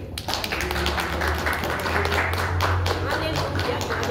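Clapping from a congregation at an Assembly of God evangelical church service, rhythmic and fairly distant, mixed with taps and running under voices and a low background hum.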